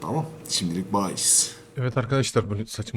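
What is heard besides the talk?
No everyday noise stands out behind the speech.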